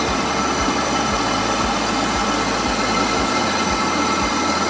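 A Valgro RTB100 round tube polishing machine runs on a stainless steel tube, giving a steady, loud whirring roar with low, regular thumps about twice a second.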